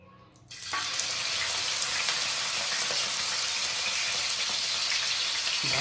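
Washed mutton pieces drop into hot oil in a tawa for a mutton fry, setting off a sudden loud, continuous hissing sizzle that holds steady and close until the end.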